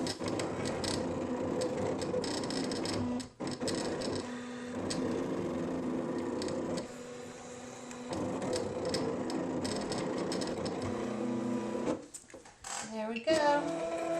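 An electronic cutting machine cuts a 2 3/4 inch coffee cup shape, whirring and buzzing in motor bursts that shift pitch, pause briefly and resume, ending with a few quick mechanical movements.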